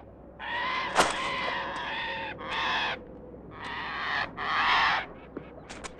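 Harsh, raspy bird calls in a 1969 film set in Peru come as several drawn-out caws in an irregular series, loud and fairly close, over a low ambient hum.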